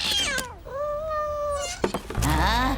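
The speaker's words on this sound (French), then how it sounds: "Tais-toi, espèce de sale chat, ou on va t'empailler." A cat lets out a long, drawn-out meow close by, with short bumps and sharper vocal sounds around it.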